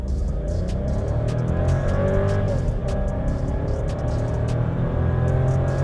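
A turbocharged Volkswagen Polo Highline accelerating at full throttle in Sport mode, its engine drone steady and loud from inside the car, with rising tonal whine and repeated sharp ticks over the constant road noise.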